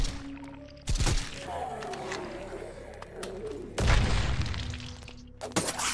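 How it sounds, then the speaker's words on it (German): Explosions in the video game Night of the Dead, two heavy booming blasts a few seconds apart with crackling debris, loud and close over game ambience with a voice talking between them. "Explosionen sind kacke."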